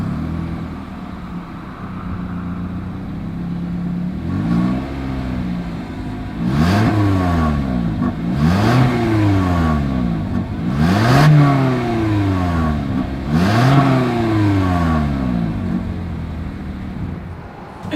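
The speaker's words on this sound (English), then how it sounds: "As always, here is that exhaust clip." Exhaust of a 2021 Toyota Corolla SE revved repeatedly from idle, four or five rising-and-falling engine sweeps with steady idle between, heard close and alone.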